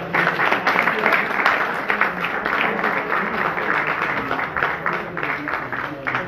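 Audience at an ustad's discipleship ceremony applauds with dense, sustained clapping for a respected teacher, steady and fairly loud throughout with some crowd murmur underneath.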